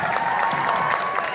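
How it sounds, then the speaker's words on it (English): A crowd at a live concert in Houston claps and cheers briefly, a moderately loud wash of clapping with a tonal sound running through it. "please give a big round of applause to my dear friend, Rehan Siddiqui."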